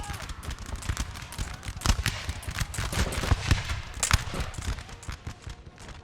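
Musket fire crackles constantly through a Napoleonic Total War 3 battle, dozens of overlapping shots in an irregular, rapid patter at varying distances, with a voice talking over it.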